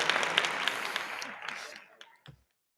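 Applause from a small group fades out: fairly close clapping starts strong, thins over two seconds and ends in a few scattered claps, with a brief voice sound at the very end.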